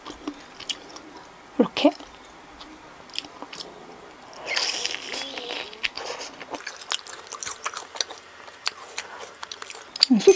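Close, crisp bites and wet chewing of sweet potato pizza dipped in a spicy sauce, with irregular crunches, soft squishes and a denser burst midway, while a voice speaks briefly.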